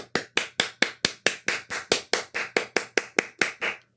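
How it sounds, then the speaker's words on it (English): Sparse applause as an inventor is introduced at a podium, about a dozen sharp claps in a steady rhythm, close and fairly loud, then stopping. "Please welcome him with a big round of applause."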